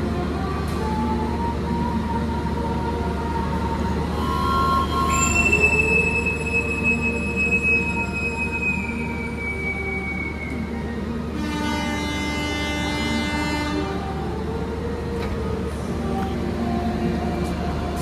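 An Indonesian Singasari passenger train pulls out of a station with long, loud wheel squeals and screeches above rolling rail noise. A horn-like tone rises partway through, and faint voices can be heard in the background.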